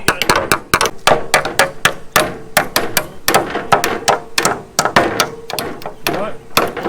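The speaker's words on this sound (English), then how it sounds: "That's a big hammer you got there." Rapid, loud hammer blows on framing for an 8x16 storage building, sharp irregular strikes in quick bursts, several hammers overlapping, with voices talking in between.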